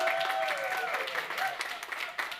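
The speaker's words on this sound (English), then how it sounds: "Will you guys clap again so I just feel a little..." Clapping from a radio show's studio audience, steady close applause, fairly quiet overall, with a voice speaking faintly over it at the start.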